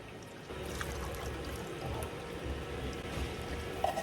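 Liquid from two cans of Great Northern beans is drained, a soft continuous pouring and trickling close by, fairly quiet and without talk.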